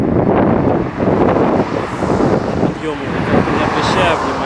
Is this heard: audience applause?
no